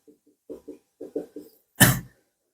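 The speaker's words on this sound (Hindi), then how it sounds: "देखो मुझे खांसी हो रही है ना" A person coughs in a quick series of short, low bursts, then lets out one loud, harsh, drawn-out cough, close by, with no other sound around it.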